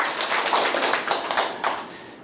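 Audience clapping at a Korean mind-study lecture, a brief burst of many hands with a few louder claps standing out, loud and close, tapering away at the end.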